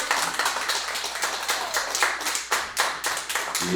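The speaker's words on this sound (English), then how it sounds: "Keep that applause going for Mr." A comedy club audience claps in a thin, uneven burst of applause, with individual hand claps clearly audible and close, rising and falling over a few seconds.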